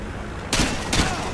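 Gunfire on the Quarry map of Modern Warfare 2, two sharp, loud bursts of shots in quick succession over a muffled background.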